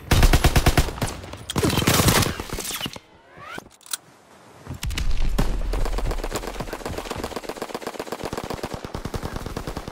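Dense bursts of gunfire and rapid machine-gun fire from Call of Duty: WWII crackle throughout, with loud artillery blasts mixed in and a short lull near the middle before the shooting resumes at full intensity.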